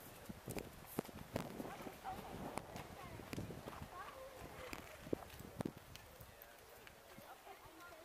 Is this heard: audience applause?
no